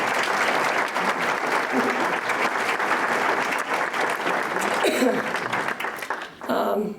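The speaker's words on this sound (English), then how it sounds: "So I think they deserve another round of applause for that." An audience applauds at a chamber of commerce awards event, steady dense clapping that fills the room and continues loudly throughout, with a short dip and crowd murmur near the end.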